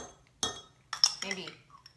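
Two heaped teaspoons of store-bought minced garlic from Aldi being spooned into a dish, giving a few close, distinct metallic clinks and scrapes of the spoon against the bowl with quiet gaps between them.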